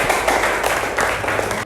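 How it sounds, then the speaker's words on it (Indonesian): A small group claps for a student in a classroom, a short burst of uneven, close handclaps lasting under two seconds. "Tepuk tangan untuk Vila."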